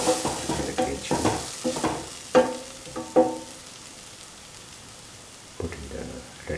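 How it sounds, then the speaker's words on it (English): Tomatoes, onions, garlic and green chili frying with fennel powder get stirred in a pan, giving a run of scraping, clattering strokes that fade into a quiet pause before stirring resumes. "Mix the fennel powder with the tomatoes, onions, garlic, and the green chili."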